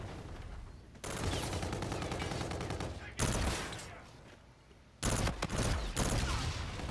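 Bursts of automatic gunfire from the video game Call of Duty: Infinite Warfare, with loud sustained volleys broken by short pauses and a fresh burst near the end.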